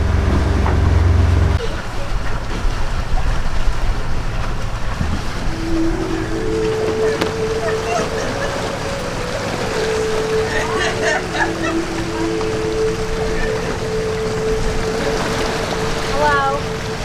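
A catamaran under sail on Pacific Northwest water gives a continuous rushing wash of water and wind with a low rumble throughout, while people talk over it.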